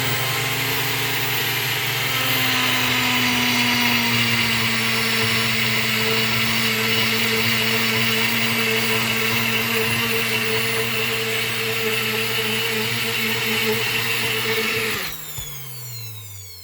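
A blender fitted with a milling blade grinds dry keto mousse ingredients into a fine powder, a loud steady whir that holds its pitch for about fifteen seconds before the motor cuts off and spins down.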